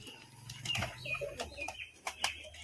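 A released male pigeon beats its wings in several quick, close flapping bursts, mixed with a few short chirps and light background voices.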